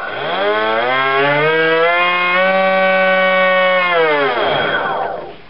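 A 2100 kV electric motor spins a 6x4 propeller on a 3-cell battery in a slot, before any bow-tie cut. It makes a loud, close, sustained whine that rises in pitch, holds steady for several seconds, then winds down.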